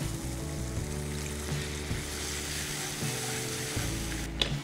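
Tomatoes sizzle steadily in a pan for a Kerala coconut moilee curry after a little water goes in, a continuous close frying hiss with a brief sharper burst near the end and no voices.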